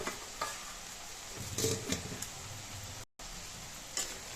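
Brinjal curry seasoned with kuzhambu chilli powder is stirred in a pan. A soft sizzle runs under repeated scraping strokes, close and fairly quiet, with no talking.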